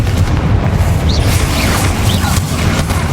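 Confringo fire spell blast in Hogwarts Legacy, a loud deep booming explosion with rumbling roar sustained through the moment, close and heavy.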